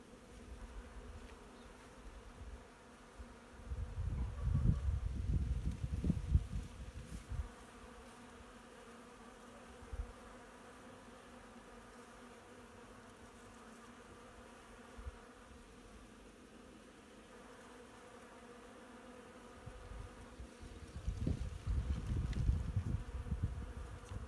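Honeybees buzz while foraging on Virginia creeper flowers outdoors, a low drone swelling loudly as insects pass close, fading to faint background hum, then rising again near the end, with no talking.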